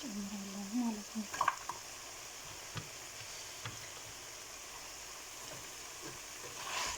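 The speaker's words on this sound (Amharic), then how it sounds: "ይሄን ሽንኩርቱን ዝንጅብሉን ጨመርኩ ማለት ነው። ትንሽ አብረን እንጥበሰው።" Onion and ginger fry in a pan with a faint, steady sizzle, broken early by a few clinks and scrapes of stirring. A brief voice is heard at the start.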